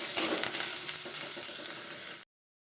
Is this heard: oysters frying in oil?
yes